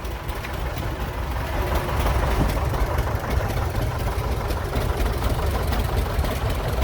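A 1957 John Deere Model 720 tractor rolling by in an antique tractor parade, its engine throbbing loud and close in a steady, dense low rumble with no break.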